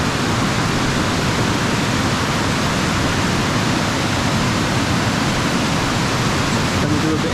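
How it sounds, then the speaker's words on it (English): Water pours steadily over a river weir in a park, a dense, unbroken rushing roar heard close and loud throughout. "Further down the river is yet another weir."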